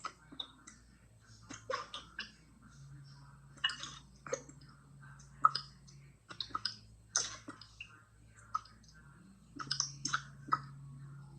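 Fingers typing on a computer keyboard while entering financial aid information, quiet irregular clicks in short bursts and pauses, close and soft against a faint steady hum.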